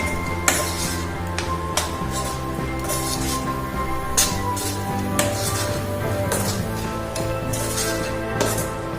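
A metal spoon scraping and clinking against a pot while mutton curry masala for Nagpur Saoji mutton is stirred, giving repeated irregular knocks and scrapes over a steady low sizzling hum, with no talking.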